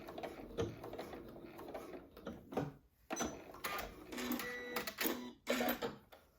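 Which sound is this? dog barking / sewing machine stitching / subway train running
sewing machine stitching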